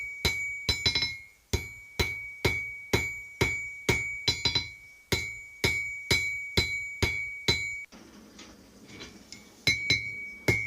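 Hammer forging hot metal on an anvil, drawing it out into a square taper for a bowl lathe hook: steady, evenly spaced ringing hammer blows, loud and close, with a brief pause near the end before the strikes resume.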